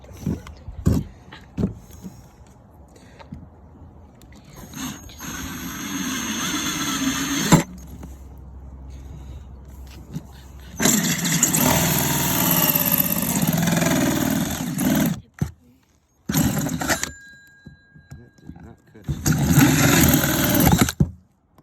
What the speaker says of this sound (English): Now here is where we're going to get our 2-inch bit out.